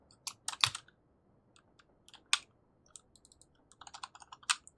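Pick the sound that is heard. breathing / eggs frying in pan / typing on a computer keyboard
typing on a computer keyboard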